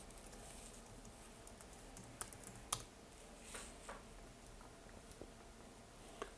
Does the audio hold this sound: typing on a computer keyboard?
yes